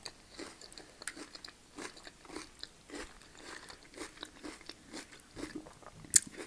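Close crunchy bites and wet chewing repeat in a loose rhythm as vegetarian stuffed peppers with cheese, mince and rice and loaded nachos are eaten, with no talking.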